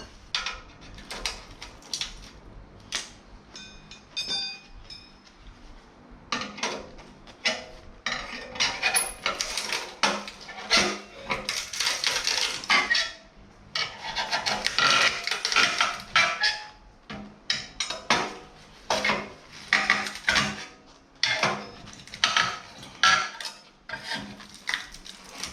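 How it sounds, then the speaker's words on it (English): Metal pry bars scrape, clank and rasp as they pry apart the exhaust of a 2011 CVO Road Glide during catalytic converter removal, with irregular bursts of metallic clatter and grinding, some longer scraping stretches, and brief pauses between efforts. "So we just grab a couple trusty pry bars."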